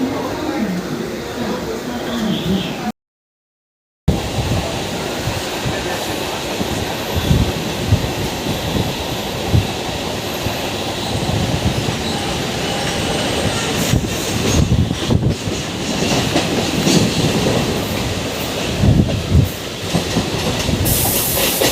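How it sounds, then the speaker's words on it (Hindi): A train pulling out toward Anand Vihar terminal rumbles along with a steady clattering wheel noise and rattling carriages throughout, loud and close, with a brief gap near the start and voices mixed in. "तो ये भी अब आनंद विहार जा रही है, ये वाली ट्रेन, और ये दिल्ली से इसका डिपार्चर हो रहा है।"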